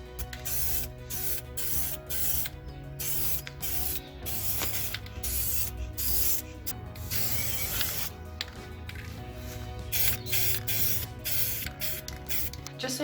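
Bravo spray paint hisses from a can onto picture frames outdoors in repeated bursts with short gaps, sputtering unevenly, with faint clicks and rattles of the nozzle between sprays.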